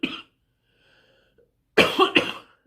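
A woman coughs up close in a quiet room. A short cough comes first, then a pause with faint background sound, then a harder double cough.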